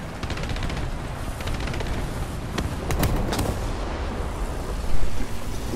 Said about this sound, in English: Wow, that was a big bomb